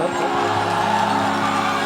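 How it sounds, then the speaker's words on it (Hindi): A stage show audience cheering and whooping for Golu at a Bhojpuri performance, a steady wall of crowd noise with shouts and applause running throughout, loud and close. "गोलू के लिए एक जोरदार ताली हल्ला करके बजाइए आप सब"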